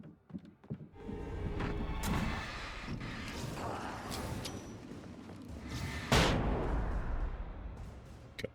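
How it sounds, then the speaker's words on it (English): Flashbang grenades going off in the Alan Wake (2010) video game while moving through the mines: a few sharp, loud bursts stand out over a continuous, dense rumble of game noise. "these flashbangs are super strong"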